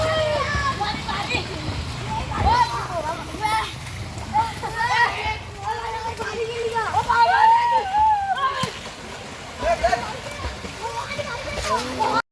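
Children splash in a village pond beside home while their father teaches two boys to swim in life jackets; steady water sloshing and splatter run throughout, with kids' voices and chatter mixed in close by.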